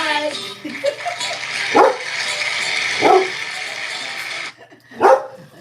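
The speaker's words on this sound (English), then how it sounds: "Annabelle's still barking" A dog named Annabelle barks close by, three loud separate barks spaced about a second apart over a continuous bed of background music or voices.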